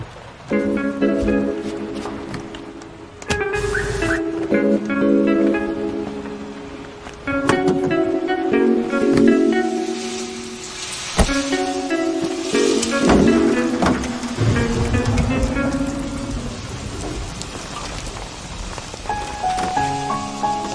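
Steady rain falls throughout, a constant hiss beneath loud music with tonal notes rising and falling over it; no one speaks.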